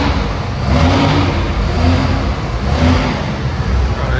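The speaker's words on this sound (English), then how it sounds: "the exhaust fully stocked with upgraded rear muffler delete, and this thing sounds phenomenal" A Dodge Ram 2500 5.9L HO pickup engine revs hard with a raspy exhaust roar through a muffler delete with catalytic converter retained, surging twice over a steady rumbling idle.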